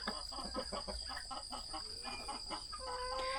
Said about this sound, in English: Here comes another hen, but she's a smaller one.